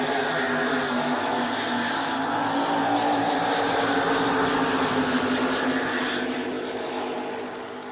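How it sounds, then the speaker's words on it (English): Supercat Extreme race boats with big block engines thunder across the front straightaway on Lake Macquarie at over 130 mph, a loud, sustained, close engine roar that eases slightly as they pass. "here come our Supercat Extreme boats coming across the front straightaway. Have a listen to the big block engines roaring"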